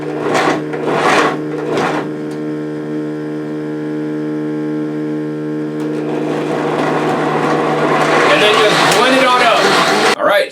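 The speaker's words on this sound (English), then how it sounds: "we're just now going to go ahead and blend this up" A vacuum blender whirs steadily as it blends young coconut meat for yogurt, starting with a few short pulses before settling into a constant motor drone that grows harsher and louder toward the end, with no talk over it.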